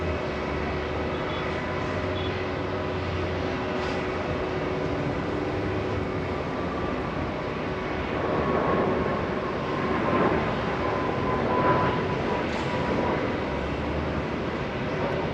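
A departing airliner at JFK rolls and climbs in a steady, broad roar that swells slightly midway, heard from a distance amid outdoor ambience with no talking.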